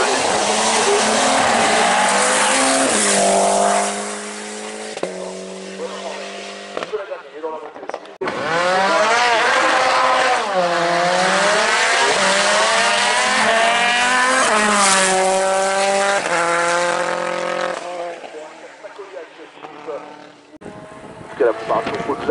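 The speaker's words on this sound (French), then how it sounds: "on suit Corentin Thiers dans la montée avec la Peugeot 308 Cup" Peugeot 308 Cup race car climbing the Mont Dore hill course, its engine loud and close, revving hard and shifting through the gears with brief lifts between pulls, while a commentator talks over it.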